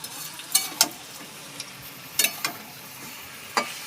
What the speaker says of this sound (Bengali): এবার মাংসটা কড়াইয়ে দিয়েছি।